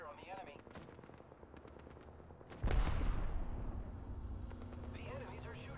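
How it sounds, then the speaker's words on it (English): Automatic gunfire in the video game Apex Legends: a sudden loud burst of rapid shots that keeps rattling on, with a voice heard talking before and after the shooting. "Opening fire on the enemy."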